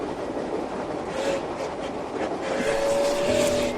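Steady rumbling rail noise from inside a moving train carriage, a continuous broadband rush with a faint tonal squeal near the end, no voices.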